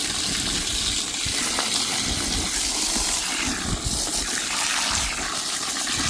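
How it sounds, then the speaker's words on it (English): Soapy water gushes steadily from a tap to clean a 1992 Compaq Enhanced Keyboard III, a loud continuous rushing splash with no pauses. "Get our soapy water going."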